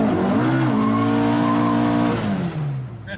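A Pinto-engined Group 4 spec Ford Escort Mk2 rally car revs hard close by, the engine note climbing and holding a loud raspy howl before easing off as the car pulls away.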